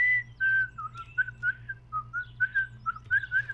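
A person whistles a playful, wavering tune in quick successive notes within a Minecraft machinima, close and clear over a low steady hum, with no talking.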